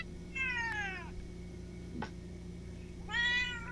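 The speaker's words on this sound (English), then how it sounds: "in case you're listening to us on just audio only, Will is currently killing a cat" A house cat meows twice, each call a clear drawn-out descending cry, the second louder, with a brief thump between them over a steady low room hum.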